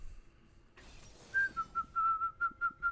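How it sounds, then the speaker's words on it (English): A person whistles a series of short, clear, repeated notes up close after a brief scrape, the tones pulsing in a quick rhythm over faint background noise. "That's a whistling sound."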